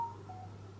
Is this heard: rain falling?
no